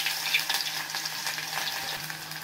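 Vertically sliced onions frying in hot oil make a dense, close sizzle with a faint bubbling texture, steady from start to finish and heard alone.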